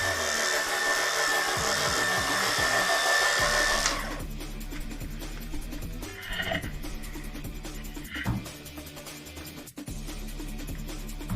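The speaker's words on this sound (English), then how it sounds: "using the Oreck orbiter with a Challenger bonnet and the Challenger pad driver" An Oreck Orbiter floor machine fitted with a Challenger bonnet and Challenger pad driver runs on carpet, a loud steady motor whine for about four seconds before cutting off, leaving quieter knocks and handling noises.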